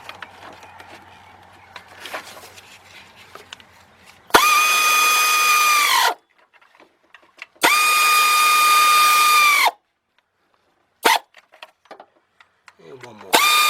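An air ratchet tightens the water pump bolts on a 2007 Chevy Impala 3.5 V6. It gives two loud, whining bursts of about two seconds each, then a brief third blip, with quiet pauses and shop noise in between.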